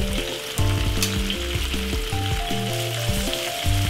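Chicken pieces sizzle steadily in a hot pan with red onion and garlic, a close, continuous crackling fry with no voices over it.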